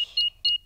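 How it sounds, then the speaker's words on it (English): A cartoon house alarm being switched back on gives two short, clear high-pitched electronic beeps in quick succession against near silence. "Switch the alarm back on."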